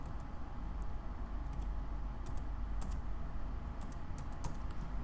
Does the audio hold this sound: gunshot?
no